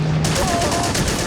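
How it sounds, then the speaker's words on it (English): A .30 caliber machine gun on an M26 tank fires in the WWII strategy game Men of War, a fast continuous rattle of evenly spaced shots, loud and close, starting a moment in. "M26 is opening up with MG fire."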